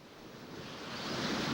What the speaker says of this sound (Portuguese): Quando a força do vento joga contra a barreira, ondas de 3, 4 ou até 5 metros, a força é enorme